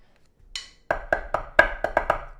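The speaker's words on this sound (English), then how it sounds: "All left-hand Swiss drags here." Left-hand Swiss drag accent strokes on a drum, a lone bright hit followed by a run of crisp, close strokes in an uneven grouped rhythm, with no talking.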